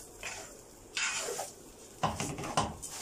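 Rice with vermicelli and butter is stirred in a pot with a utensil, giving short scraping clatters in irregular bursts, close and fairly quiet.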